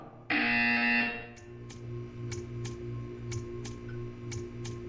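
A loud electronic buzzer in a Portal test chamber blares for about a second, then a regular ticking pulse continues over a low hum.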